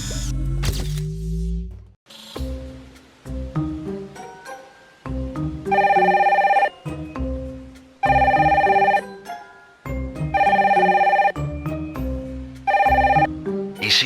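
Red telephone in The Sims 4 ringing in loud repeated bursts, each a bright electronic trill that starts and stops sharply in a steady pattern, with game music and chimes filling the gaps.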